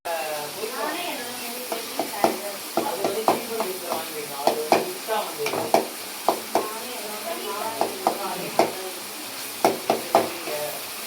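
Tomato and onion sautéing for a squid gravy in a pan with little oil, a spatula scraping and knocking in an irregular rhythm over a soft sizzle while a voice talks in the background.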